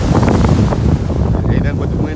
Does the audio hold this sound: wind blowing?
yes